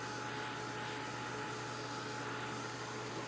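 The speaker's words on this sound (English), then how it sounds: "I'm going to go ahead and hit this with a dryer" A dryer blows a steady, even whirring hum over a chalk paste sign, constant and fairly quiet with no pauses or voices.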